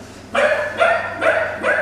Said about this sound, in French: Le chien se met en position de soumission, la queue entre les jambes, les oreilles couchées, voix aiguë.